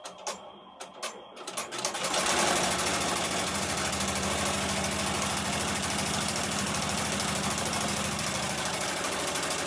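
An embroidery machine tacks down vinyl on an in-the-hoop zipper bag: a few separate mechanical clicks, then a loud steady rapid stitching drone with a buzzing vibration that runs on continuously.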